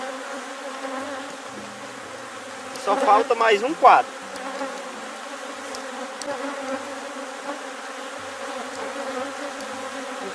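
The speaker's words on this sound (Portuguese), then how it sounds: "Isso aqui vai com abelhas aderentes." Honeybees swarming over a brood frame lifted from a hive during a colony split, a steady close buzzing drone throughout, with someone speaking briefly over it.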